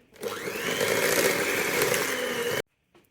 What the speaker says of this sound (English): So to that I'm now going to beat in 1 egg